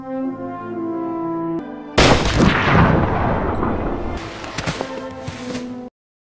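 A sudden loud burst of gunfire in the anime Violet Evergarden erupts over a sustained tonal background, followed by crackling rumble that fades before cutting off.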